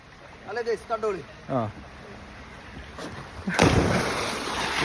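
A person leaps into a natural pond, hitting the water with one loud, close splash and wash of churning water after voices speak beforehand.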